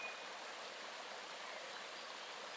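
Cool, clear water ripples and laps in a steady, even wash of soft hissing texture, unbroken and fairly faint, with no voices over it.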